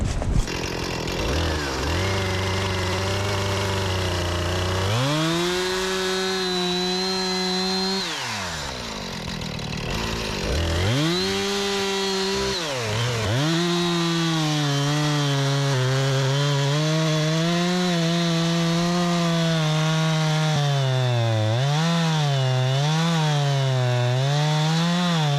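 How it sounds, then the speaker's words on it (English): A chainsaw making a plunge cut through a standing tree trunk during felling: loud, continuous engine drone that bogs and revs as the bar sinks into the wood, with a brief dip in the middle before returning under load. "So now we've plunge cut through most of the tree"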